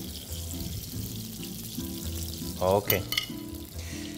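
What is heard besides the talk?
goose livers frying in goose fat in a hot pan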